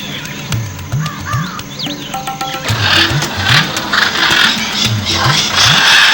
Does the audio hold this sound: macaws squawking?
yes